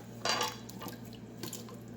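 Potatoes drop into a pot of gently heating milk soup for caldo de queso sonorense, giving a couple of close, soft wet splashes and plops with a faint clink of the pot, with no talking.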